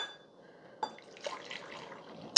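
Hot coffee pouring from the glass carafe of a Mr. Coffee 5-cup mini brew switch coffee maker into a cup, a faint, brief liquid trickle with a small splash at the end, heard alone.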